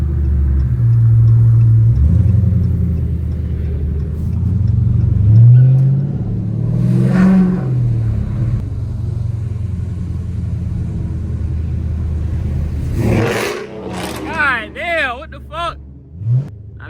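A straight-piped Dodge Scat Pack with the 392 engine rumbles loudly and steadily for most of the run, swelling in a couple of revving bursts, then tapering into short sputtering pops near the end.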